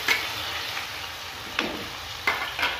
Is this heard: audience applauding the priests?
no